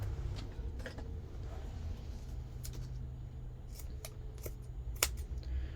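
Scissors snipping through a thrifted round scarf at a seam, a few quiet, sparse cuts close by over a low steady background hum, with one sharper snip near the end.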